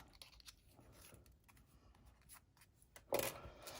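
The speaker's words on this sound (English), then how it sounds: "I need to cut this one in half." Scissors cut a card in half with soft snipping and scraping at close range, ending in one louder, brighter crisp cut near the end.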